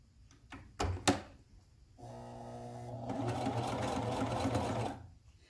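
Sewing machine stitching a wax sandwich bag booklet: a few sharp clicks, then a steady motor hum from about two seconds that grows into a busier running stitch for several seconds before stopping.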